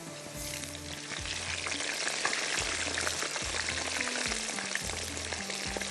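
Mutton pieces fry in hot oil for a curd masala dish, making a steady, close sizzle with soft low knocks recurring at intervals throughout.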